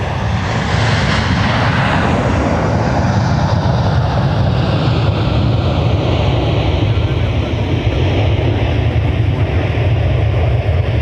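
A jet airliner departs MSP airport with a loud, sustained engine roar that holds steady throughout, broad and rumbling, with a voice talking faintly underneath.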